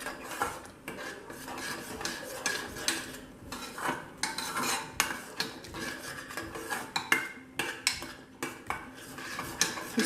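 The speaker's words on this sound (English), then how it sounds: "I'll increase the flame little bit higher and I'll keep on stirring it." A spoon scrapes and clinks against a pan while palak paneer cooks without oil over a raised flame, giving steady, fairly quiet stirring with repeated rhythmic scrapes and taps and no talking.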